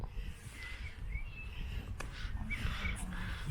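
A bird calls a few times outdoors at Delapré Abbey, faint and somewhat distant, its cries rising over a steady low rumble of wind or traffic.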